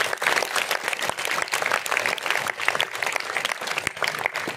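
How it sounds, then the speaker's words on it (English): Audience at a school speech competition applauding the participants, a dense steady burst of clapping throughout at close range with no talk. "let us congratulate and clap for all these participants loudly"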